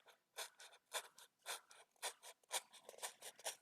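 Close scissor cuts through paper or craft material for a handmade trailer diorama, a rapid series of crisp snipping and rasping strokes in a quiet room.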